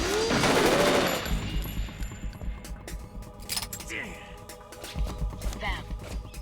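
Gunfire from the Metal Gear Solid 2 video game: dense rapid bursts of shots, loud at first and then quieter and scattered, mixed with game music and effects.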